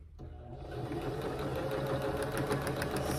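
A sewing machine stitching fabric half square triangles for a quilt, starting up and then running in a steady, close, fast whirring rhythm with no pauses.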